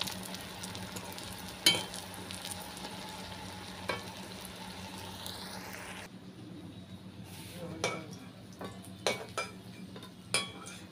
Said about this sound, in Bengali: তা আমি দেখো বেগুনটা ভেজে নিচ্ছি লাল লাল করে